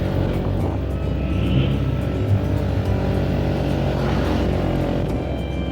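A motorcycle rides a mountain road toward Naran in the Kaghan valley. Its engine drones steadily and loudly up close, with wind rush over the whole stretch.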